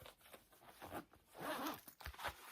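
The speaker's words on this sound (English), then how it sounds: "I'm going to have to unzip this and show you" A zipper on a thrifted bag is unzipped up close in a quiet room, with several short raspy pulls and a longer continuous drag in the middle.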